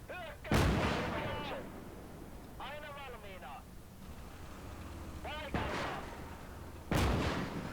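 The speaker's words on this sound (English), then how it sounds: "those 2 silly tanks are firing" Tank cannon and artillery fire in the Gates of Hell Finland campaign strategy game: three or four sharp, loud booms spaced a few seconds apart over a low battlefield rumble, with voices talking between the shots.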